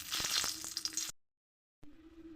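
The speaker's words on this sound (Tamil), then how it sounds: "எண்ணெய் சூடானதும் நாலு மிளகாய் சேர்த்துடலாம்" Four dried red chilies crackling in hot oil in a kadai, a brief close sizzle with a few pops that cuts off abruptly, then a quieter hiss resumes after a short silence.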